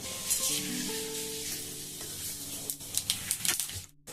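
Panch phoron spices hit hot oil in a wok and sizzle loudly, then crackle and spit more sharply toward the end before a brief drop-off, with faint tonal sounds in the background.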